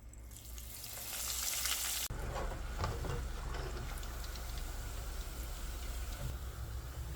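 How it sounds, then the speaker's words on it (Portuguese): Minced-meat risoles fry in hot oil with a continuous, fairly soft bubbling hiss that rises as they go in and then holds steady. "E agora eu vou fritar."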